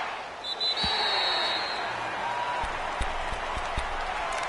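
A stadium crowd in an American football video game on PS4 with the Browns, a steady broad roar and murmur holding throughout with a few low thumps underneath.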